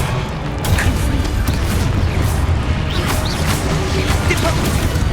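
A Confringo explosive spell goes off in Hogwarts Legacy, a loud booming blast with crashing impacts that roll on continuously amid battle noise, while a voice is heard through it.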